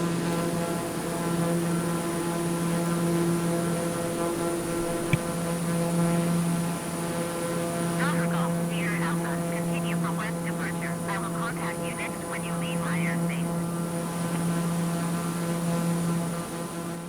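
Steady propeller-aircraft engine drone from a plane climbing out after takeoff in Microsoft Flight Simulator 2020, a constant loud hum with strong low tones held throughout, with brief chirpy tonal sounds in the middle.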